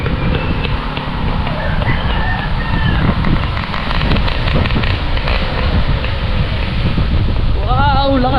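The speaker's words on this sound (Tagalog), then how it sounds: "Wow, lakas ng hangin." Strong outdoor wind buffets the microphone in continuous loud rumbling gusts, with a voice briefly audible beneath near the end.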